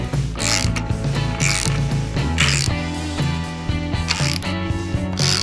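A 6.0 LS V8 engine turned over by hand, giving a run of loud ratcheting clicks and mechanical creaks in uneven bursts, close up with no talk.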